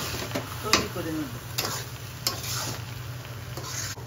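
Shahi jorda sweet rice being stirred in a pan with a spoon, giving a few soft scrapes and taps over a steady low sizzle, with a faint constant high whine in the background.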